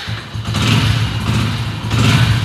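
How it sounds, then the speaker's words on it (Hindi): A Hero HF Deluxe motorcycle with a self-start fault is started without the clutch, the single-cylinder engine catching and settling into a close, loud, pulsing idle with slight revving. "अब बिना भी क्लच लिए हम बाइक को स्टार्ट करते हैं"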